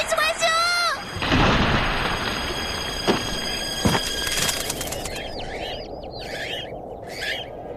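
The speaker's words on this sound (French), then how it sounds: "Les oiseaux!" Birds in an animated French-dubbed manga film chirp in a rapid series of high calls over a dense, rumbling backdrop broken by a couple of sharp bangs.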